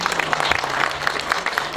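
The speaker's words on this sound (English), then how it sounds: "I think it deserves a clap" An audience at a county celebration for an eye care and cataract surgery project claps steadily, a dense continuous patter of many hands filling the room.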